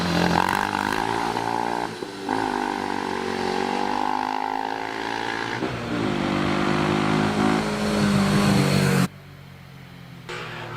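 Historic Formula 500 race car engines at the Prescott hillclimb rev loudly and climb through the gears, one car snarling up through rising pitch before the sound cuts sharply away to a quieter background near the end.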